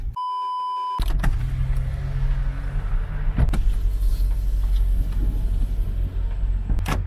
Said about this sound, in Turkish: Arabayı çalıştırdık